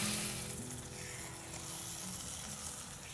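Masala with blended tomato sautéing in a pan for a shakshuka-style dish, giving a steady, continuous sizzle and crackle of frying that stays close and fairly even throughout, with no talking.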